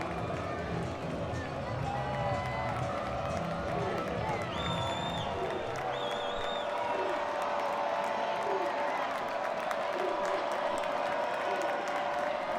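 A home crowd at a 2023 CAA college football game between New Hampshire and Delaware roars and claps steadily throughout, with a commentator talking over the cheering.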